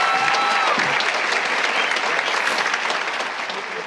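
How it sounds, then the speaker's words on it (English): Applause from a large crowd fills a high school commencement ceremony, a dense, steady roar of clapping that holds loud throughout and fades slightly at the end. "How about another quick round of applause for that?"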